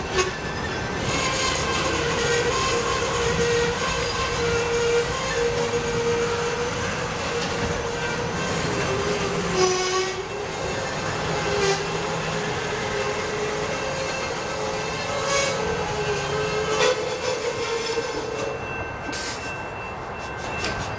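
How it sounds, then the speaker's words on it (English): A heritage-painted freight train rolls slowly to a halt across a road crossing, with steady rumbling, metallic wheel squeal and brake hiss running throughout at moderate, close range. "this train ended up stopping over the crossing"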